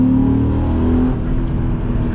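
The V10 engine and exhaust of a Dodge Ram SRT-10 pickup truck drone loudly from inside the cab as it accelerates, a deep steady roar that eases slightly after a second and carries on.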